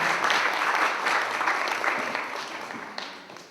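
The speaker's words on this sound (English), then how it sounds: "let's give Kyle and G2 a round of applause" A roomful of people applauding at a startup pitch gathering, dense, lively clapping that stays loud for a few seconds and then gradually tapers off.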